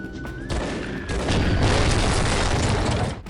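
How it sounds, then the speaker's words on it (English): A rocket launcher fires in the shooter game Gore: Ultimate Soldier, a dense, loud booming roar of blast and rumble that builds and holds steady for a few seconds without pause. "To counter this, we do get a rocket launcher though."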